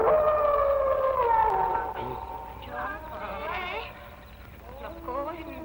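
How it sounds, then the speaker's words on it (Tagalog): A dog howls in long, wavering drawn-out tones that rise and fall in the foreground at night, with people talking over and between the howls. "hindi ko gusto ang alulog ng aso na yan"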